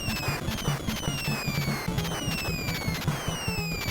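Rapid bursts of grenade explosions in a Contra-style side-scrolling game, a dense crackling run of chiptune blasts over looping music with descending tones, continuous and moderately loud, with no voices.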